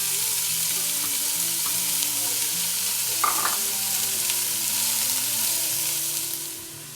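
Ground beef and onions sizzling and frying in a pot on the stovetop, a steady close hiss with a few stirring clinks and a background hum, fading slightly at the end.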